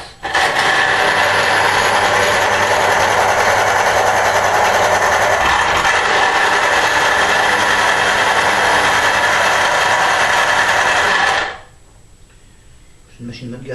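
A cheap, low-end electric juicer pressing oranges, a loud steady motor whine running for about eleven seconds before cutting off abruptly, with a faint voice under the noise.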